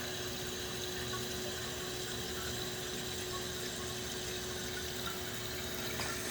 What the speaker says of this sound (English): as you can see, the water is now filling up.